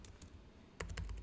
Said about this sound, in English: Let me do some typing for you guys.